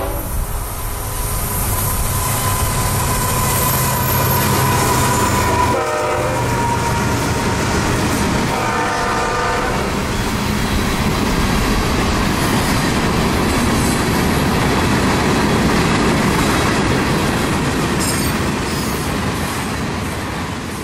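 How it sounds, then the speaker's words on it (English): A northbound CSX Q442 daily freight train from Tampa to Waycross rolls past, a loud continuous rumble of railcars with clickety-clack wheel beats and occasional squeal, with no talk. "I was able to get the next train, Q442, northbound Tampa to Waycross daily freight"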